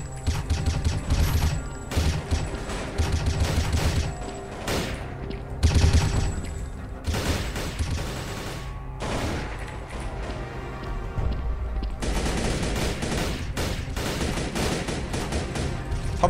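Rapid bursts of Thompson submachine gun fire in a shooting video game, loud and dense, crackling in repeated volleys with booming impacts and brief pauses between strings of shots.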